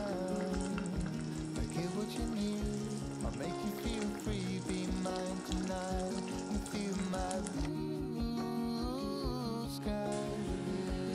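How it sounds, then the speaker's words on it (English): Beef meat sauce for lasagne cooking in a pan, a steady close sizzle and bubbling that runs throughout beneath prominent tuneful background music. "So as the meat sauce is cooking"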